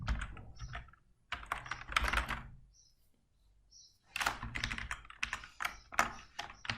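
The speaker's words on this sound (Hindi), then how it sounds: "इसमें आप टाइप करते हैं कीवर्ड फंक्शन" Typing on a computer keyboard during a lecture on defining functions in MATLAB: close, rapid bursts of keystrokes, briefly pausing midway before resuming in dense clusters, with no talking.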